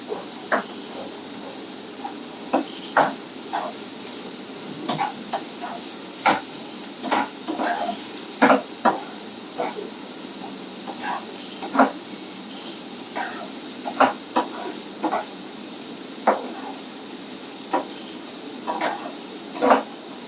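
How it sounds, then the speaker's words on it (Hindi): Finely chopped cabbage stir-fried in a pan for egg Manchurian fried rice: a steady sizzle runs throughout, broken by repeated sharp scrapes and taps of a spatula against the pan at an irregular rhythm. "थोड़ा सा ये कैबेज, पत्ता गोभी छोटा छोटा कटा हुआ डालेंगे।"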